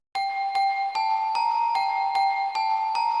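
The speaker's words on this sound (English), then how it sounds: "together both the Glockenspiel and the Celesta sound like this" A glockenspiel and a celesta from the Purity plugin sound together in a layered melody of evenly spaced, chiming bell notes about every 0.4 seconds, bright and sustained, with no talking.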